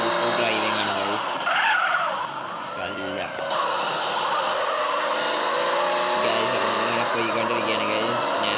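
Cars driving and skidding in a mobile GTA role-play game, with loud continuous tire screeching, engine whine and siren-like tones, while someone talks over the game sound.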